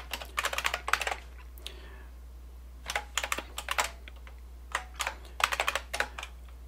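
Function keys being typed on a Brother WP-1 word processor keyboard, giving crisp clustered clicks in uneven bursts with short pauses between them, close up and alone, with a steady low hum underneath.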